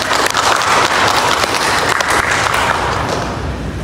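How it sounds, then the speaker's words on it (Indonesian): Loud, close applause fills a media gathering held by the Cirebon city election supervisory body with journalists, many hands clapping densely and evenly before easing slightly near the end. "Tepuk tangan untuk kita semua"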